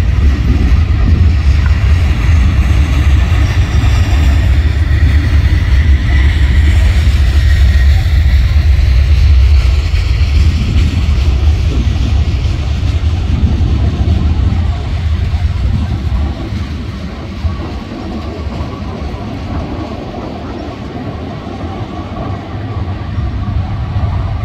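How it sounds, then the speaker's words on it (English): A train rolls along railroad tracks at Tansley in a steady, loud, continuous rumble and rushing drone that eases slightly toward the end, with no distinct horn or clatter standing out. "So here we go, we got another train."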